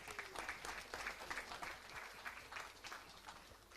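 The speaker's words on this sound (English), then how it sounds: "give her a second big applause for a great final" A crowd at a women's 10 m standing air rifle shooting final applauds a finalist, a faint, fairly distant patter of clapping with slight swells in intensity.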